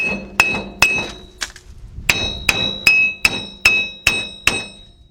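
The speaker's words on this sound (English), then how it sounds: "the thing gets kind of stuck in there. So you're gonna take your hammer." Sharp metallic hammer blows ring out one at a time on a stuck right front hub bearing of a 2005 Nissan Titan 5.6, about nine strikes with short pauses, loud and close with a bright clanging ring.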